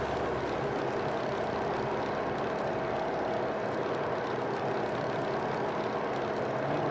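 A Grumman F3F pre-war fighter with a steel propeller flying at about 2,000 feet, its engine a steady, loud, unbroken drone heard from up close, with no talk.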